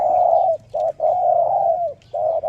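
A dove coos in a steady series of soft, low hooting notes with brief pauses between phrases, close and clear with no talking.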